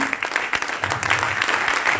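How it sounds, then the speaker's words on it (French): A church congregation applauding, with steady, close clapping from many hands filling a short stretch. "Applaudissez le Seigneur pour leur vie."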